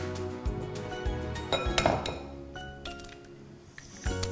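Eggs cracked one after another into a bowl for a dhaba-style egg masala give sharp clinks and taps against the rim, close and fairly quiet, with a brief clatter near the middle.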